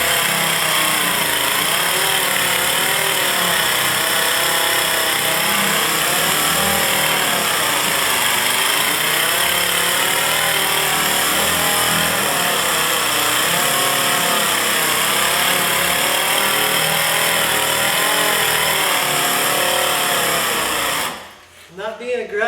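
A power buffer runs steadily on the paint of a 2000 Chevrolet Silverado 1500 Z71 pickup, a loud continuous whine with slight wavering as the pad moves across the panel, stopping just before the end.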